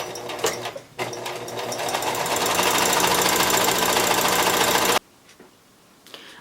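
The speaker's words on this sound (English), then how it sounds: "let's take a 1/4 inch seam down this shorter edge right here" Sewing machine running a scant quarter-inch seam along the short edge of fabric for a homemade pocket tissue holder: a brief start, a pause, then about four seconds of steady, loud, close stitching whir before stopping.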